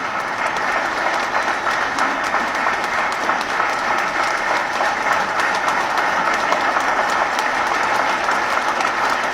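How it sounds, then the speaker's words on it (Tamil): Sustained applause from an audience at a Tamil speech, a dense, steady wash of clapping that holds at an even loudness throughout with no break. "இந்த கைதட்டு"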